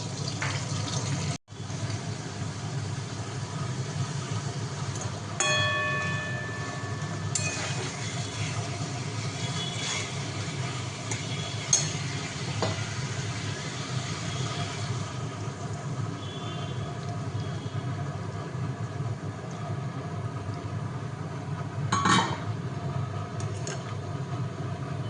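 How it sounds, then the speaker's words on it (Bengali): Dishes being washed at a kitchen sink while fish fries, running tap water as a steady low rush with occasional clinks and knocks of utensils, no talking. "তাই ভাবছি মাছ ভাজাটা হতে হতে গৌরীদের বাসনগুলোও তুলে ফেলি।"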